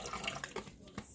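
Water poured into a blender for a Herbalife shake, a short close splashing gush with a voice talking over it.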